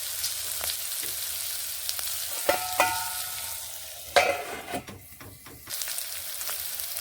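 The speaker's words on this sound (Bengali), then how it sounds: "বীজগুলোকে আমি ঢাকা দিয়ে দিয়ে ভেজে নিচ্ছি" Beans frying in a covered pan, a steady close sizzle with a few clinks and knocks of the lid or utensil partway through.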